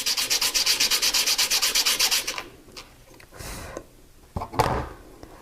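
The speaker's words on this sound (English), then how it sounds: "This is 220 grit sandpaper." A carved jewelry ring being sanded by hand with 220 grit sandpaper, heard first as a fast, steady run of close rasping strokes, then as a few scattered rubs and scrapes.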